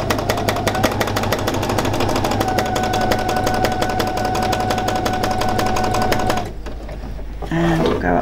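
A sewing machine runs fast and steady doing free machine embroidery on a raw edge applique, a loud continuous rapid stitching rattle that cuts out near the end, with a voice talking over it.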